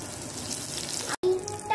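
Garlic and green chilli frying in hot oil in a pan for poori masala, a brief, close, bright sizzle that is cut off abruptly for a moment and then resumes, with no voices.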